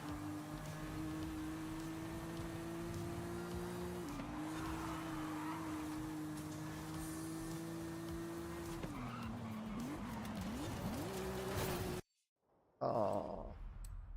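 A race car in a driving video game, running slick tires on a poorly tuned setup, drones at steady engine pitch with shifts and tire squeal, then cuts briefly to silence before the engine noise returns.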